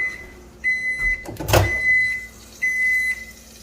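A microwave oven hums steadily while cooking bacon, with a few high electronic beeps in short bursts and a brief clunk in the middle.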